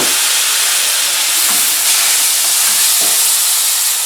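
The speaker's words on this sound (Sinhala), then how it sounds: "අපි ඊට පස්සේ මේකට වතුර පොඩ්ඩක් එකතු කරනවා." Green beans frying in a pan for a Sri Lankan bean moju give off a loud, steady hiss and sizzle as a little water goes in, with a few soft stirring scrapes and no talking.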